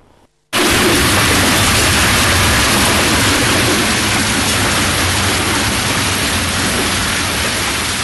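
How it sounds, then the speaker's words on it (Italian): A violent rainstorm with hail and strong wind gusts roars as a dense, steady broadband wash, loud and close, starting abruptly and holding without letup, with no voices. "si è scatenato ancora una volta il nubifragio, inatteso e violento, grandine e vento"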